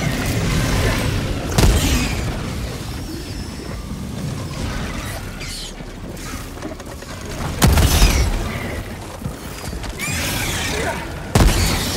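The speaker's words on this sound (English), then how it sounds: "Throwing grenade!" Grenade blasts in Helldivers 2 during a Terminid bug-nest search-and-destroy mission: a few heavy booming bursts break through a constant clatter of game noise and mechanical sounds, with no talk.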